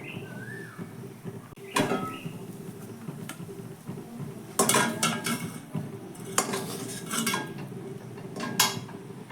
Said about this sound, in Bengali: এটাকে এবার ঠান্ডা হওয়ার জন্য একটা পাত্রে আমি তুলে রাখছি